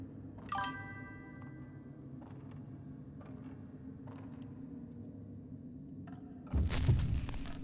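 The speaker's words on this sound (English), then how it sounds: "Do you guys hear the chat notifications?" Soft chat notification chimes ring faintly and sparsely over quiet game audio from a PS5 run of Fatal Frame Mask of the Lunar Eclipse, then a louder burst of in-game sound near the end.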